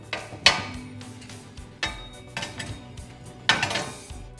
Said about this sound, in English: All I'm going to do is thread my fire pit burner tightly around the street elbow.